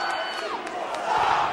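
Crowd at a live wrestling event, split in its reaction, fills the air with a dense, loud roar of cheering and shouts.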